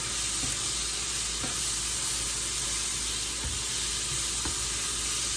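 Food sautéing in oil in a frying pan gives a loud, steady, broadband sizzle with faint taps of stirring, close and continuous with no talking.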